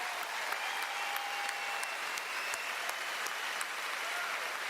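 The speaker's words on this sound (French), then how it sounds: "Applaudissez!" An audience applauds at a comedy gala, a dense, even wash of clapping from a large crowd that holds steady throughout without voices standing out.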